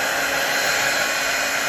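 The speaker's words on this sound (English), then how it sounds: "take my little blow dryer here and I'm gonna blow" A small handheld blow dryer runs close by, giving a steady, loud whooshing roar of blown air with an even motor hum and no change in level.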